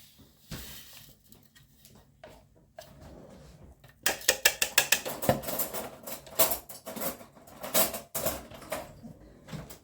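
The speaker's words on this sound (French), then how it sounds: "je prends un couteau, faut bien que je fasse les pépites de chocolat" A knife chopping chocolate into chips on a board, starting sparse and quiet, then a fast run of sharp close knocks and clatter, loud and uneven, fading toward the end.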